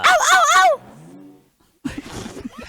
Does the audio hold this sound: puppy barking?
yes